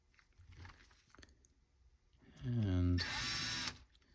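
A power drill drives screws into a part, a short whirring burst rising to a steady high whine after quiet handling sounds, with someone speaking briefly before it.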